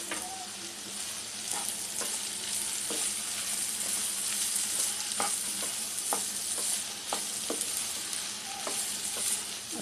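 Carrots and cauliflower frying in a pan for matar gajar pulao, a steady close sizzle broken by regular scraping stirs of a spoon, with no talking.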